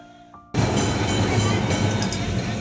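A Kolkata tram starting off on its rails, running from Esplanade to Shyambazar. After a quiet moment, a loud, steady rumble of the car on the tracks begins suddenly and continues close by.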